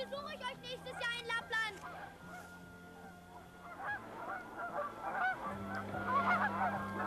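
Flock of geese honking in the open, a burst of repeated nasal honks up close at first, then more scattered calls overlapping as the flock moves, with a voice talking over part of it.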